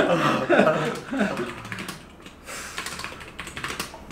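Rapid, dense clatter of fast typing on a computer keyboard during a typing speed test, with people laughing and talking loudly over the first half before the keystrokes continue more clearly on their own.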